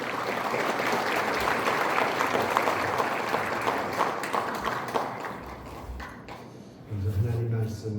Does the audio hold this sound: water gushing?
no